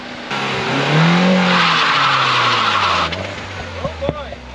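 A car's tires squeal and skid with water added inside the tire, a loud sustained screech with a rising engine note, fading into a few short chirps near the end.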